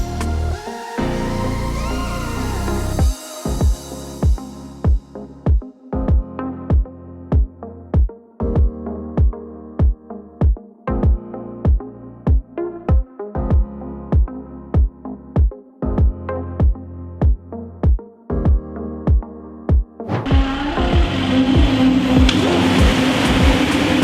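A 2018 Audi A3 S-Line 2.0 TDI diesel strapped to a dyno for a remap, its engine note rising in a rhythmic series of repeated revving pulses before building into a loud sustained run at the end.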